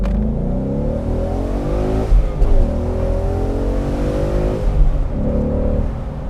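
A 2017 Ford Mustang GT convertible revs hard and accelerates with traction and stability control off, its engine note climbing through rising gear pulls with brief dips at the shifts, loud and close.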